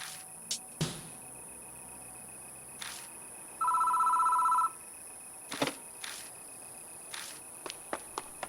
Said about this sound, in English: Like, there's a lot of phone calls tonight.